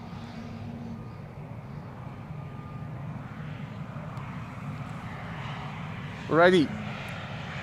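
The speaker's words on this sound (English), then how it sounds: "This is an E2 arriving from Warsaw. They have opened up the reverser slots." An Embraer E2 airliner arriving from Warsaw at Amsterdam Schiphol with its thrust reversers open, a distant, steady engine rumble over outdoor ambience, with a short spoken word near the end.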